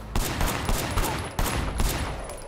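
Rapid gunfire from the video game Sleeping Dogs Definitive Edition: two loud bursts of overlapping shots, each lasting over a second, booming and close with no talk.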